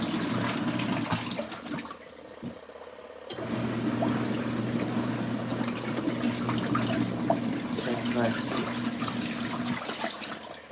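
Water splashes and churns steadily inside an LG ThinQ MEGA Ultimate washing machine, a continuous close wash of liquid sound with a brief quieter gap early on, no talk.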